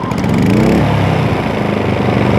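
Inverter generator engine catching after its choke is closed, running loud and close with a buzzy, steady small-engine putter for a couple of seconds.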